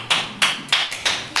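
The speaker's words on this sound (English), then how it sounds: "maybe a round of applause." A few people at a city commission meeting clap in a slow, evenly spaced rhythm, five distinct crisp claps close by rather than full applause.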